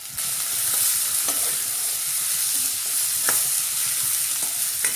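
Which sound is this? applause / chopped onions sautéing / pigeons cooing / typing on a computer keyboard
chopped onions sautéing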